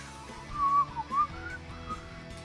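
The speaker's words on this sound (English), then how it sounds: "When you're whistling to your own songs." A person whistles a short tune, a few sliding melodic notes rising and falling over roughly a second, fairly close and alone over a low background hum.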